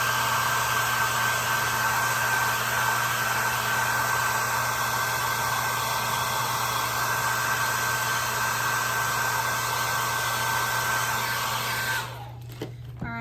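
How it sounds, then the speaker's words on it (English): A hair dryer-style blower pushes a loud, steady rush of air to dry paint on a wooden cross-stitch style sign, running continuously up close before switching off near the end. "Okay, so then I want to dry this. So let's blast it right quick. Let it dry."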